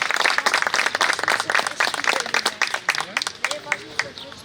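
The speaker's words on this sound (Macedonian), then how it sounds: "Браво и најголем аплауз за Леон" An audience claps for Leon at a book promotion event in Skopje, a dense burst of clapping that thins out over a few seconds as voices talk over it.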